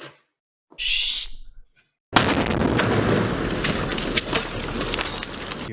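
A grenade explodes in a podcast game clip: after a short hiss and silence, a sudden loud blast erupts into a sustained, rumbling roar with crackling debris that fills the rest of the moment.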